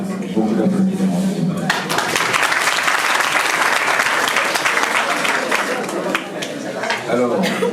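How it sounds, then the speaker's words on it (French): Audience applause in a lecture hall at a business school seminar, sustained loud clapping from a large crowd lasting several seconds, with a voice speaking at the start before the clapping swells and keeps going. "Beaucoup d'applaudissements."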